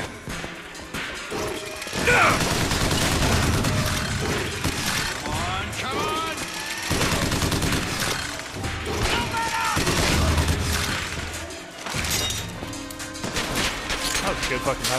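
Rapid minigun fire in Bioshock Infinite combat, loud and sustained across most of the stretch, with crashes, thuds and impacts layered in and brief lulls between bursts.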